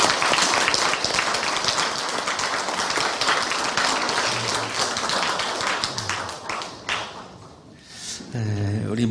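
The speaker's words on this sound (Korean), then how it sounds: "우리 박수로 우리 신입생들을 환영하겠습니다." A Korean university church congregation applauds new students during a Sunday service, a long dense round of clapping that softens toward the end, followed by a short burst of musical tones.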